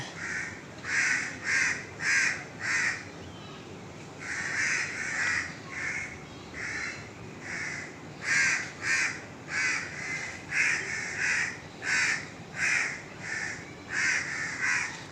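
Loud, close crows caw in steady repeated bursts while harassing a monkey in a neem tree, call after call in regular clusters with no speech.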